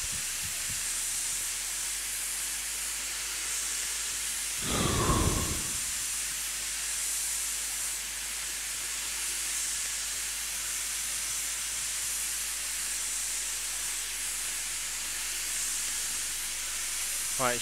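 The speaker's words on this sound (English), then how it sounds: "open the cylinders to get rid of any remaining steam chest pressure" Steam hisses loudly and steadily from the open cylinders of a Stroudley A1 Terrier tank locomotive, a continuous close roar that holds throughout, with one brief louder burst partway in.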